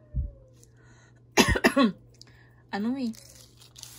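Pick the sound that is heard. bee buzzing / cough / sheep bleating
cough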